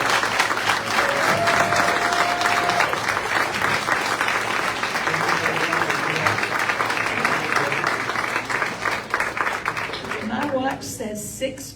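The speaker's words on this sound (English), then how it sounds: "could we have a round of applause for these gentlemen?" Sustained audience applause at a municipal election candidate forum in Northport, filling the room at steady loudness and fading toward the end, with a voice briefly audible over the clapping.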